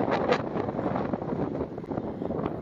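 Strong wind from a dust storm sweeps a highway in Egypt's New Valley. It is a steady, loud rushing roar with gusty buffeting against the microphone and no voices.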